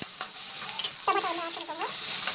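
Onion, garlic, dried chili and grated coconut sizzle with salt in hot oil. The frying hiss is steady and close, broken by the scrape of a spoon stirring the pan.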